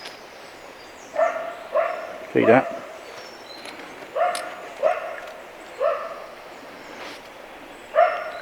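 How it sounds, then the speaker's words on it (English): Dogs bark in short, spaced yaps and woofs, fairly close and moderately loud, outdoors by a stream, with a brief spoken remark in between. "Dogs are out."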